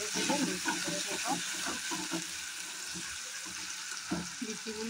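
Green tomato seeds fry and sizzle in a hot pan, a steady close hiss with occasional stirring scrapes, running alone the whole time.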